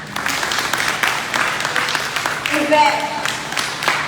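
Audience applause at the 2022 Rise & Shine graduation, steady crowd clapping running beneath a speaker who keeps talking over it at a moderate level.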